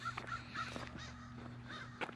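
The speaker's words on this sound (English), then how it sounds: "Hear a crow at the top of a tree cawing." A crow caws from the top of a tree outdoors in Outlook, Saskatchewan, with several harsh calls over a steady low hum near a water treatment plant.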